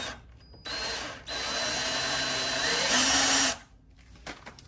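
A Ryobi power drill whirs in two long bursts while backing screws out of a shelf being taken apart, loud and close, with a short pause between runs and quieter handling clatter afterward.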